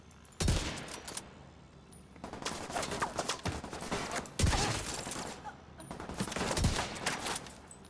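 Video game gunfire rings out as several sharp, loud shots spaced a second or two apart over a steady background of crackling battle noise.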